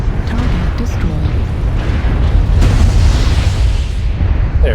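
A mech is destroyed in the video game Mechwarrior Online, a deep rumbling blast swelling up over dense, continuous low battle noise, with a sharper burst partway through.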